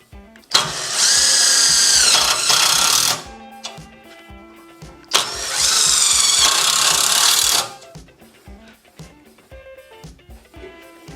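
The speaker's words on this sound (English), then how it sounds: "we're just going to install them with some self-tappers" A power drill drives self-tapping screws to mount cheap cup holders on a 1987 EZGO Marathon golf cart, with two loud sustained whining bursts a few seconds each, separated by quieter clicks and handling noises.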